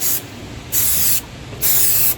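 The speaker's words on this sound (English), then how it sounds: "So I'm just spraying all these." Three bursts of hissing aerosol spray paint, each roughly half a second long, coat a 1966 Chevrolet C10 pickup truck for a patina finish, loud and close with brief pauses between.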